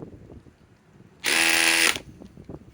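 A DeWalt DCF870 hydraulic impact driver on a 5 amp power stack battery fires one loud, close, buzzing burst lasting well under a second, with quiet before and after.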